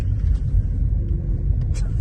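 A Land Rover engine rumbles steadily from inside the cabin during a test drive, a low, continuous road drone with no voices.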